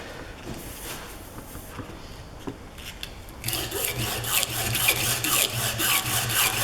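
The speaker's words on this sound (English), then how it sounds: "I'll wrap it up just like that and I'll sand that way." An engineering drill gauge is sanded on a block wrapped in half old, half new sandpaper. Quiet handling gives way midway to steady, close, gritty rasping strokes that repeat until the end.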